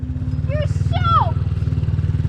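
A dirt bike engine, YZ65 or CRF450L, idles steadily with a fast rhythmic putter throughout, close and loud, while voices briefly talk over it.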